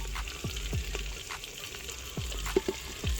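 Whole spices, including bay leaves, dried chillies, cracked cardamom and cinnamon, fry gently in oil under a quiet, low sizzle, punctuated by several soft spatula scrapes and taps as they are stirred.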